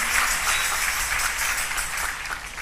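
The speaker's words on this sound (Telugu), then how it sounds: "చప్పట్లు కొట్టి" A church congregation claps their hands together during a sermon, a steady, dense wash of applause that continues throughout without pause.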